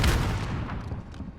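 A burst of rapid, heavy gunfire from the frag rifle in Call of Duty Modern Warfare, loud and close at first and then thinning into an echoing tail that fades over about a second.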